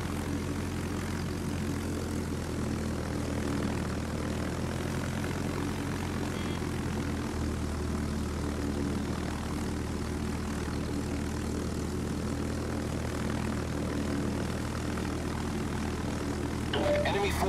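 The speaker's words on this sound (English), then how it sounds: "Attack! Enemy aircraft!" Engines of enemy propeller aircraft droning steadily in World of Warships, a constant low mechanical hum under game sound effects that persists throughout.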